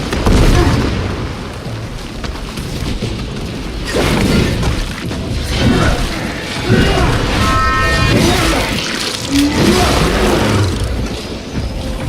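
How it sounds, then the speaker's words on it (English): Frag grenade blasts and heavy combat booms from the video game Space Marine 2, loud and dense, with crashing, debris and mechanical clatter layered throughout, continuous battle noise with several sharper bursts. "Throwing frag grenade."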